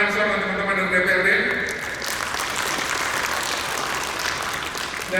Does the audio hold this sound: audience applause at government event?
yes